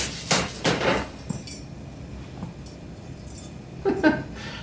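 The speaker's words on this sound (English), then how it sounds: "I put the punch on there, and sometimes I gotta whack it once or twice" Metal-on-metal hammer blows drive a punch against a bicycle fork part, three or four sharp ringing whacks close together, a pause, then a couple more clanks near the end.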